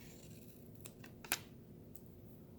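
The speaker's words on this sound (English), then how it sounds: "I should probably cut this side down a little bit too" Scissors snipping through paper while trimming a page for a handmade reading journal: one sharp, close cut stands out above faint earlier snips and low room hiss, with no talking.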